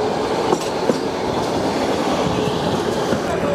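The Nilgiri Mountain Railway toy train runs between Coonoor and Ooty, a loud, steady rumble of carriages with rhythmic clickety-clack of wheels on track heard from on board.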